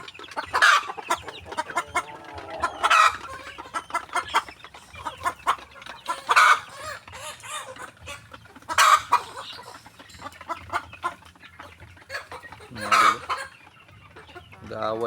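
Chickens cluck and squabble nearby in a farmyard, sharp bursts of agitated squawks recurring every couple of seconds over a low background.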